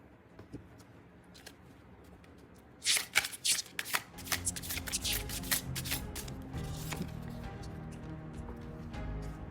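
A deck of tarot cards is shuffled close up, beginning with a few soft taps before a burst of crisp riffling flutters and then a steady rustling shuffle that continues to the end.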